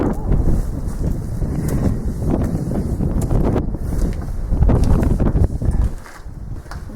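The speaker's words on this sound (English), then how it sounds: "Wind takes your breath away." Strong wind buffets the microphone at Cilgerran Castle, a steady, loud, rumbling roar with gusty surges that lasts throughout and eases slightly near the end.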